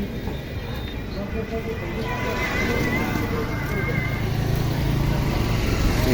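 People are carried by boat on the Jamuna river near Nalin Bazar, Gopalpur, Tangail. A loud, continuous engine drone runs throughout, with a faint murmur of voices beneath it.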